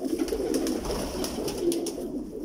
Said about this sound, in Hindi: माशाल्लाह बहुत खूबसूरत कबूतर है उस्ताद जी।